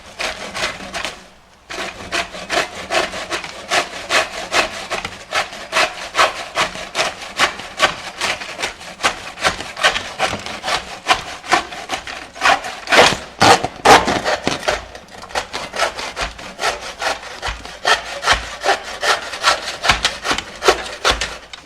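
Steady, rhythmic back-and-forth sawing through a wooden bed, loud and close, continuing for a long stretch with only a brief pause near the start.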